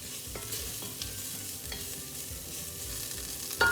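Hot oil in a frying pan for a fish curry crackles with a soft continuous sizzle, broken by a few small sharp pops and faint stirring scrapes, close and fairly quiet.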